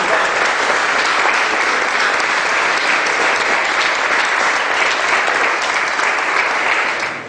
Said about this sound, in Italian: ci facciamo un altro bel applauso finale